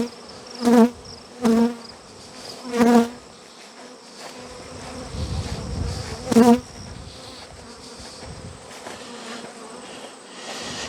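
Honey bees swarm around a pallet hive outdoors in a steady, close buzzing drone, with louder passes as individual bees fly near; no one talks.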